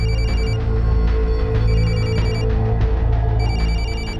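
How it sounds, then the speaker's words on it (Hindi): A mobile phone rings inside a locked house, a loud electronic ringtone repeating in bursts with short gaps, heard alone without talking. "फोन की आवाज तो अंदर से आ रही है"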